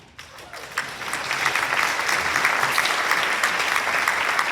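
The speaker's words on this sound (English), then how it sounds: "and then we'll applaud" Applause for a student at a college awards celebration, starting faint and swelling within a second into a steady, full round of clapping from a seated audience that continues to the end.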